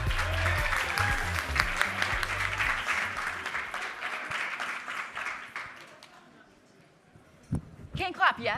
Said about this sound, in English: please put your hands together for tonight's panel